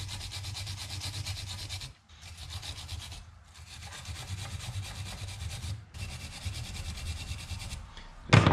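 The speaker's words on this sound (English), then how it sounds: "I'm gonna take a wire brush and I am going to simply just brush off all of our burnt on oil and grime" A wire brush scrubbing burnt-on oil and grime off the spark plug of an Echo PB770T backpack blower, rapid rough rasping strokes in three close, loud bursts separated by brief pauses, with no talking.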